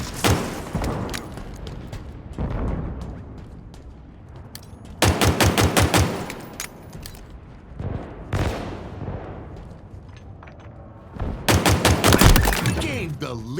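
Rapid automatic gunfire bursts in Halo Infinite multiplayer, loud close volleys with booming impacts and explosions between them, with game voice callouts mixed in.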